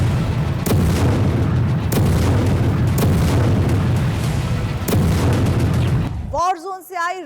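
Heavy explosions from a Russian bombardment in Ukraine, a dense continuous roar punctuated by several sharp booming blasts, loud and close, ending abruptly before a brief stretch of other sound.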